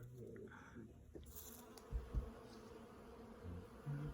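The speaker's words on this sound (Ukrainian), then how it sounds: "Працевиті, працевиті бджоли." Bees hum and buzz faintly outdoors in spring, with a few louder thumps and a brief higher chirp near the end.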